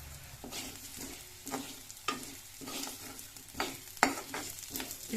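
Whole spices such as caraway, white sesame, bay leaf, cloves, cinnamon and fresh ginger sizzle softly in a pan for veg kolhapuri, with periodic scraping stirs and a few sharper clinks of the spoon.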